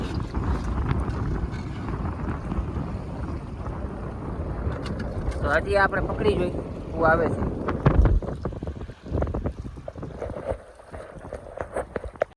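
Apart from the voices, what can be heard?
strong wind blowing at sea on a fishing boat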